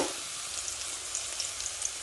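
Steady, close sizzling of onion, garlic and cumin frying in hot oil, a continuous crackling hiss with small pops scattered throughout.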